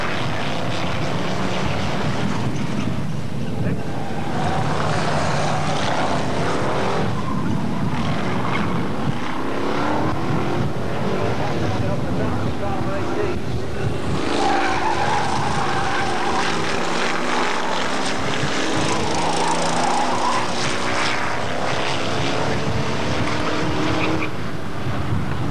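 Hot stock race cars roar around the Buxton oval as one car spins out near the finishing flag, a dense, continuous wash of engine noise filling the whole stretch without pause.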